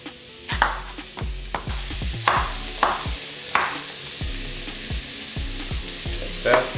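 Zucchini pieces hit a hot pan with onions, giving a steady frying sizzle broken by repeated sharp scrapes and clanks of stirring, close and fairly loud with no voices.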